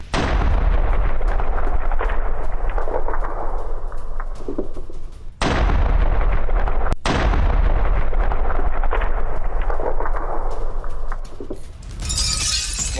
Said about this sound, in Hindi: होवित्जर तोप से यूक्रेनी ठिकानों पर ताबड़तोड़ हमला।